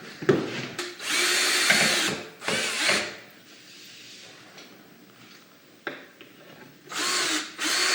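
A power drill drives screws into a wooden cabinet in several bursts of high whirring, each lasting about a second with quiet gaps between, close by and loud.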